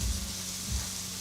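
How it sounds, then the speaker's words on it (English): Vegetables, peppers and onions, sizzle in a hot pan with a steady, close, soft crackling hiss that runs alone through the brief moment. "I'm just feeling the heat in this pan to see if it's ready. Yeah, it's sizzling."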